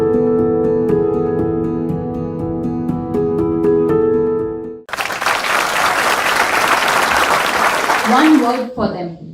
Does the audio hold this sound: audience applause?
yes